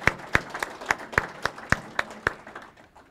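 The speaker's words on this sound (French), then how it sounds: "Oui, on peut applaudir." Slow, sparse clapping at a funeral ceremony: a handful of hands striking in a loose, regular beat, about ten claps fading out over a few seconds in a quiet room.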